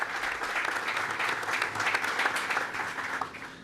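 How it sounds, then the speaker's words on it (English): Audience applause fills the room at a steady, dense level for the whole stretch, welcoming guests at a Heaven Hill bourbon expansion event in Louisville, with no voices over it. "I just want to give these guys a big round of applause for doing all that."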